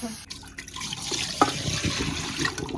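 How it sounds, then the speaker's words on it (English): Water bubbling up from a drain or container, a soft wet gurgle with a few drips running steadily at close range, one sharper splash partway through. "This thing's bubbling up."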